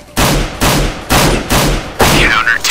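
Rapid gunfire at a practice bot on a short firing range in CS:GO, five loud, sharp shots spaced about half a second apart, each with a brief ringing tail, with a faint chirp under the last one.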